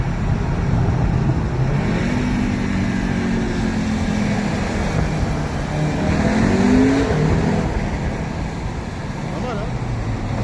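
An Audi TTS car accelerating hard under launch control inside a tunnel, a reverberant engine roar rising through gears with pitch sweeps, loud and echoing throughout.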